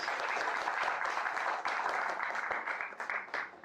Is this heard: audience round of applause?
yes